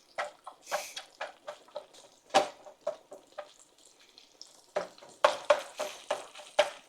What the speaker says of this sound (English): And I'm gonna get this hamburger meat going.